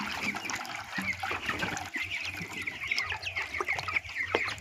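A flock of 21-day-old chickens on a poultry farm clucks and chirps continuously, with many overlapping bird calls at moderate distance and soft rustling underneath.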